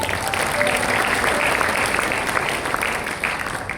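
Church congregation clapping in praise, a thick, sustained wash of applause from many hands filling the room for a few seconds, with no clear talk above it.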